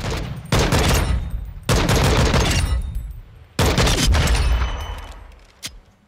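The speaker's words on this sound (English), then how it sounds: "Out here we can switch to single fire and just tap fire it." Tap-fired single shots from a weapon on single-fire mode in Call of Duty Modern Warfare II: three loud, close bursts of gunfire separated by short pauses, each trailing off in a decaying echo.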